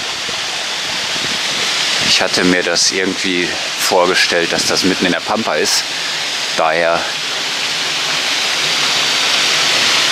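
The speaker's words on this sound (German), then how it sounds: "direkt hier an dem Gasthaus natürlich auch der Lichteneiner Wasserfall" Lichtenhain waterfall in Saxon Switzerland beside an inn, a steady broadband rush of falling water heard up close throughout, with someone talking over it for much of the time.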